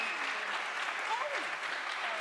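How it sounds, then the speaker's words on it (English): At a British Exploring Society celebration evening, an audience gives a dense, fairly faint round of applause for the nominees, steady clapping throughout a brief stretch with some voices mixed in. "And a final round of applause for all of our nominees."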